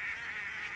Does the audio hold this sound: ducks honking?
yes